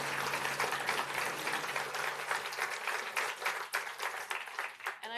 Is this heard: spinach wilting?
no